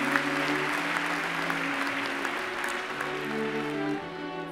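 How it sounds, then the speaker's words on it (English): Audience at a postgraduate graduation ceremony for Faculty of Medicine Masters graduates applauds steadily, a dense sustained wash of clapping with a low musical tone running underneath, easing slightly near the end. "Please join me in a round of applause for the graduates."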